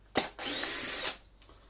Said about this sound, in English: Undo our screws with a little bit more care on this one